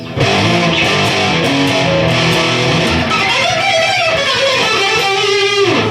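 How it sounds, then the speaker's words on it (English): A loud, sustained electric guitar through an overdrive pedal with a gritty tone plays chords and bending notes, thick and saturated, with no talking over it. "There's my overdrive sound."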